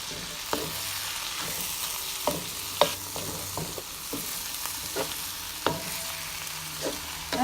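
Pork, lobster and fresh cut green beans sizzle in a pot as they are stir fried, with soft steady frying broken by a series of scraping stirs from a utensil, close and fairly quiet.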